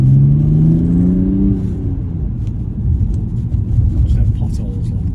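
A BMW E91 330d diesel estate with a sports exhaust pulls away with a deep rising drone, then settles into a steady rumbling cruise inside the cabin, with people chatting throughout.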